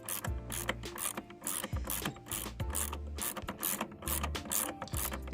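A ratchet works a loose bolt in the engine bay of an Alfa Romeo 159 being stripped, giving close, rhythmic clicking pawl strokes repeated steadily over several seconds with faint metallic rubbing.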